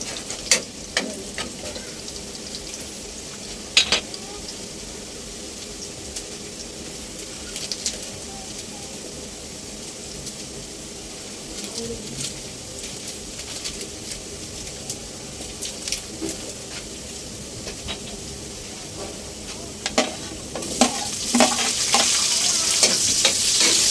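Beef sizzling and being stirred in a pan for caldereta, a steady broad frying hiss with occasional scrapes of the utensil, growing louder and busier near the end; no speech.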